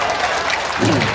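Applause breaks out from an audience at an Islamic lecture by Ustadz Abdul Somad, a dense wash of clapping that swells toward the end of the brief moment and sits close.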